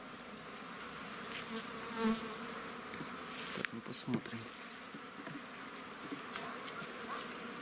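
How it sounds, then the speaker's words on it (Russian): A dense swarm of honey bees hums steadily close by at an apiary hive, with a few brief muttered words and some handling clicks over the buzzing. "пчелы работают"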